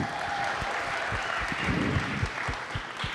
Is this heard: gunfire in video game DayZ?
no